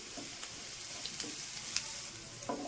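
Curry leaves crackle and fry in hot oil in a pan, a steady close sizzle with a few sharp pops and spatters scattered through.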